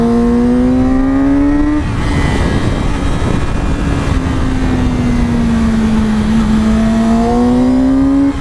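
A 2019 Yamaha R6 sport motorcycle on a test ride, its engine revving hard and climbing through gears with rising, falling whine, loud and close throughout without any talk.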